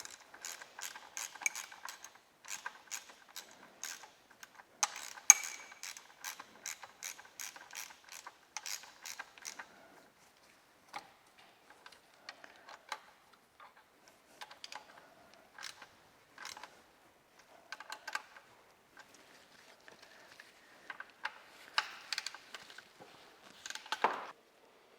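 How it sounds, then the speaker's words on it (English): A wrench ratchets bolts in during an engine rebuild on a Massey Ferguson tractor. Rapid, faint metallic clicks come in runs and bursts across the whole stretch, close by, with no talking. "run them in with a wrench here, or I can, so we aren't wasting so much time with a torque wrench"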